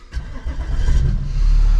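A diesel-swapped Nissan GTR cranks and fires up, a brief rough starter churn building into a loud, deep engine rumble that settles into a steady idle, heard up close.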